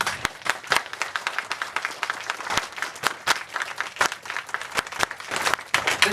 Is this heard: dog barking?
no